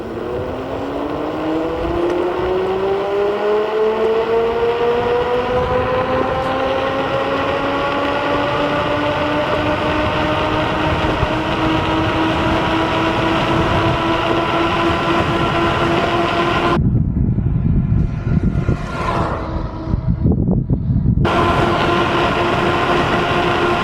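An Ausom Leopard DT1 Pro electric scooter accelerates hard in race mode with acceleration and torque set to maximum, its motor whine climbing steadily in pitch before levelling off, over continuous rushing wind and road rumble.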